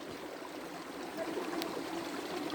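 Gentle water of a small provincial river in the Philippines flows and trickles steadily at a soft, even level, with no voices.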